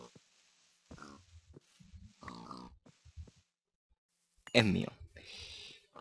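A pig in Minecraft grunts in a short burst partway through, loud against the quieter Spanish speech heard before and after it.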